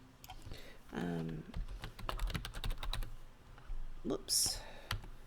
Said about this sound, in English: I clicked, started typing.